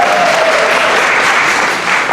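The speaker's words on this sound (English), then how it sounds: "Give yourself a round of applause" Steady, dense applause from an audience at a Lakeland Toastmasters event fills the room evenly from start to finish, with no voices heard over it.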